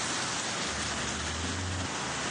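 Heavy rain pours down in Bengaluru as an even, hissing downpour of countless drops drumming on surfaces, steady and close, with a faint low rumble beneath and no talking.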